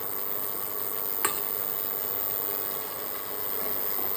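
Dal with turmeric powder and salt sautéing in a pan for sambar, a soft, steady sizzle with light stirring and one brief clink, fairly quiet and without talk.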